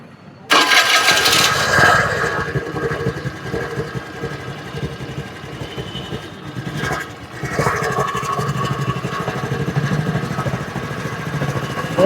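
A TVS Scooty Pep BS6 scooter with a sensor problem cranks and its small engine catches, then runs at a steady, rough idle, close by and loud throughout.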